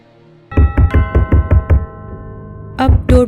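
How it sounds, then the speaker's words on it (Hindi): Loud wooden door knocks in a rapid burst of about six heavy thuds, a pause, then two more hard knocks, with a faint ringing tone lingering underneath. "जोर जोर से किसी के दरवाजे को खटखटाने की आवाज़"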